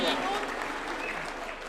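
Steady applause from a crowd at a political party governing council meeting at State House, Nairobi, with voices faintly mixed into the clapping throughout.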